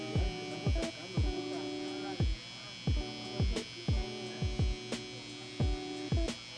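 Electric hair trimmers buzz in short, repeated bursts during a taper haircut, each burst starting and stopping sharply over a steady background hum.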